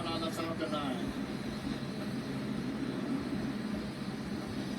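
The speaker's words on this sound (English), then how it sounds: "Vehicle is supersonic. We've exceeded Mach 1 on the Falcon 9." SpaceX Falcon 9 rocket engines roaring during ascent just past Mach 1, a steady, dense broadband rumble filling the whole clip, with faint radio voices mixed in.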